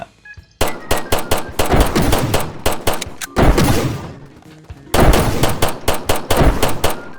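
Rapid bursts of pistol gunfire in the Roblox PUBG-style game Pubblox, loud sharp shots in quick repeated volleys with a brief lull in between, no talking.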